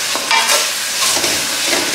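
Tomatoes frying in a pan for a puri oggarane, a steady close sizzle with stirring scrapes, loud and continuous with no voices.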